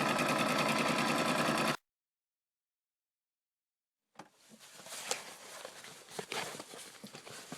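A sewing machine stitches a bench cushion seam in a fast, steady whir that stops abruptly, followed by silence and then light handling clatter and rustling.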